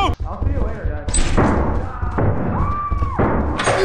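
Gunfire in the horror co-op video game Lethal Company, played in a modded hide-and-seek match: several sharp, punchy bangs and thuds scattered irregularly over about four seconds, mixed with players talking loudly over them.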